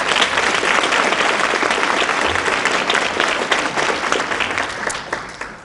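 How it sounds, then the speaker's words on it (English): A school audience at a ribbon-cutting ceremony applauds the principal, with dense, loud, steady clapping from a large crowd that carries on throughout and thins slightly at the end. "Let's take a moment to give a round of applause to our principal"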